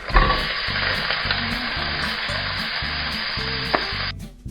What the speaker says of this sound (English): heat some oil up in a pan, and then it's in with your meat to brown off